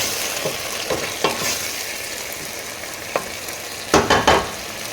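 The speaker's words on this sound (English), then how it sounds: "I'm gonna throw in my pepper to start cooking as well" Pepper sizzles in a pot of okra soup under a steady frying hiss, while a spoon scrapes and knocks now and then, with a cluster of sharper stirring clacks near the end.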